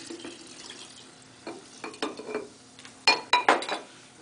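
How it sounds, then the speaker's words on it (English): A spoon stirs a chilled drink mixture of light Bacardi rum and Sprite, starting with soft swirls and ending in a few sharp clinks against the container near the end, close by with no talking. "Stir it well."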